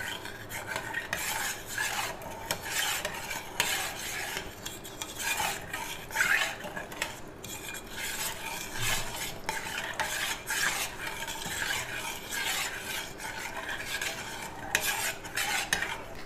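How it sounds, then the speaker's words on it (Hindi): A spoon stirs cornflour and sugar in a pan before the flame is lit, a continuous rhythmic scraping and clinking of utensil against metal, fairly quiet and close, with no talking. "बग़ैर आग जलाए पहले इन सारी चीज़ों को मिक्स कर लेना है।"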